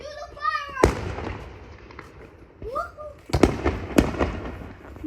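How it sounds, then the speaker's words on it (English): July 4 fireworks set off by many people at once: whistling rockets rise, then sharp bangs and crackling bursts pop near and far in quick, irregular succession, with excited voices between them. "a lot of people are doing fireworks at the same time"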